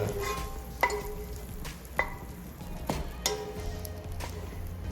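Savory French toast fries quietly in a pan, a soft low sizzle punctuated by a few sharp clinks and scrapes of a utensil against the pan at irregular intervals.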